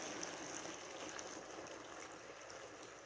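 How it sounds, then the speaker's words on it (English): Water pours steadily into a hot skillet of chicken and carrot pasta, a continuous hissing, bubbling wash that stays even and fairly close throughout, with no voices. "I'm going to add a little bit more water."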